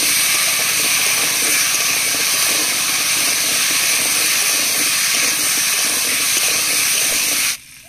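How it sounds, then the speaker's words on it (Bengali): Taro root is sautéed with spices in a pan, giving a loud, continuous hissing sizzle close up that holds steady before cutting off abruptly near the end. "এবার কচুরমুখীগুলো কষিয়ে নেব।"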